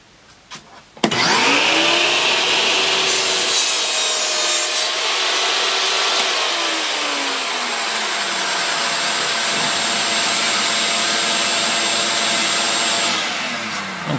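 A saw runs continuously for over ten seconds as it cuts a wooden piece guided by a crosscut sled, giving a loud, steady whine with a rasping edge, then winds down at the end.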